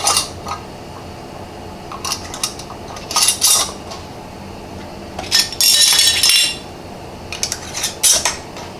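Metal lids and screw rings are set onto glass half-pint canning jars for orange date cardamom preserves, making a series of close, bright clinks, taps and metallic scrapes in irregular bursts, with no talking.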